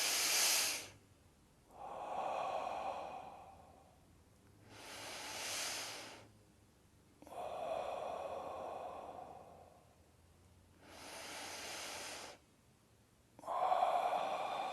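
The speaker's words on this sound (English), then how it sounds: "Now, you want to be doing some of the deep breathing throughout the day." Deep breathing exercise: slow, loud breaths close to the mic in a steady cycle, each long, airy inhale giving way to a softer, sighing exhale, about three full rounds with no talking.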